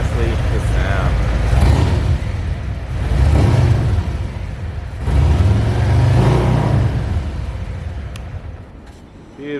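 A 2023 Harley-Davidson Street Glide Special with a Rinehart exhaust rumbles close and loud, swelling through two or three deep throttle blips before settling back to a lower idle.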